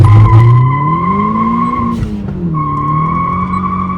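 Opel Calibra Turbo launching from a standstill with loud, sustained tire skidding and squeal over a straining engine note that rises, dips and resumes, close and continuous.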